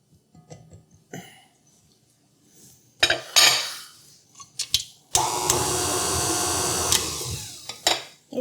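Spatula scraping egg yolks out of a small dish into a mixing bowl for a chocolate fudge pie, heard as a few close clinks and scrapes, then a sustained scraping rasp of a few seconds and a final short scrape.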